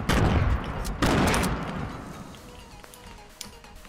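Gunfire in the Fortnite video game, a rapid burst of close, loud shots followed by a second volley, then scattered quieter shots trailing off.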